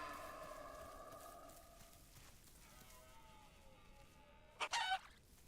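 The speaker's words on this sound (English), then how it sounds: "Come on, chicken, make a noise." A chicken in the video game The Isle Evrima gives faint, distant clucking calls over low ambience, ending with a brief louder squawk near the end.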